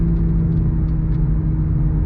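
Synthetic engine note of a 2023 Toyota GR Supra with manual gearbox, played through the cabin speakers: a steady, loud low drone and rumble that holds even throughout, no one speaking.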